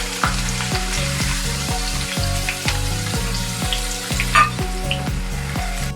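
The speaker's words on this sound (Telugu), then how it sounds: "ఇప్పుడైతే ఉల్లిపాయలు అయితే ఫ్రై చేసుకుంటున్నా" Onions frying in hot oil for chicken biryani give a steady, close sizzle, broken by a regular rhythm of stirring strokes and pan scrapes roughly every half second, with no one talking.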